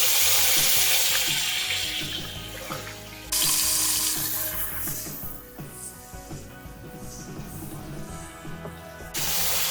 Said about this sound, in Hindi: और अनियंस को 2 से 3 मिनट हल्का सा फ्राई करेंगे।